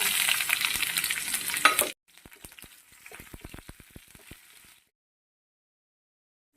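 Cumin seeds and green chilli slices sizzle loudly in hot oil in a pan for about two seconds. The hiss then cuts off, and a run of short spatula taps and scrapes follows as the mix is stirred.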